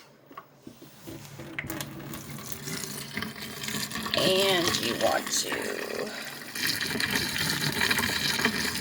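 Boiling water poured down a kitchen sink drain makes a rushing, gurgling flow that swells and grows fuller midway and keeps running under a person talking.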